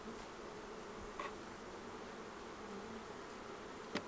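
Honeybees buzz around an open hive while small hives are made up for virgin queens, a continuous soft drone of many wings with a few brief louder passes near the microphone, faint overall and without talking.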